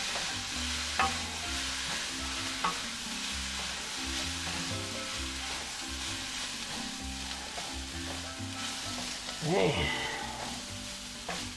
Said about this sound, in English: next to the last thing going in is some soy sauce, and you can hear that hit the bottom